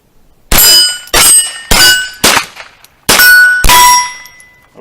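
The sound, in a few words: firing a string of rounds from a gun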